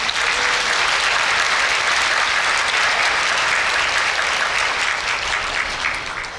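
An audience applauding at a university matriculation ceremony in a hall, sustained dense clapping from a large crowd, fading slightly at the end.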